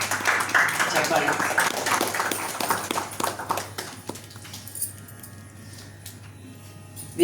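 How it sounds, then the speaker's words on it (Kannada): An audience claps at a ceremony honouring learned scholars. It starts as dense, crackling applause, then thins out and fades after about four seconds, leaving a quieter room. "ಚಪ್ಪಾಳೆ."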